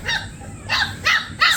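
Bully kutta puppy giving a few short high-pitched whimpers and yips in quick bursts, close by, with no talking.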